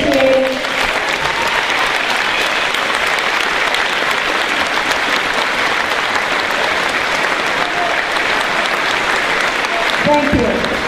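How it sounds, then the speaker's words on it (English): An audience at a school commencement ceremony gives a sustained round of applause, dense, loud clapping that carries on steadily for around ten seconds, with a voice briefly heard near the end. "would just stand up for a real quick round of applause"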